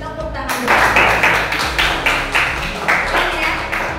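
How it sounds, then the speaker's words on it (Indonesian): A class of Indonesian students claps hands together in a rhythmic pattern of loud, regular bursts, close and energetic, with faint voices mixed in. "Tepuk tangan dulu."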